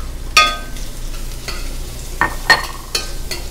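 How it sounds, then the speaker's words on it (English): Carrots being added to sizzling bopis in a pan over medium heat with garlic, a steady frying hiss under several distinct scraping stirs of a utensil against the pan. "Adding the carrots."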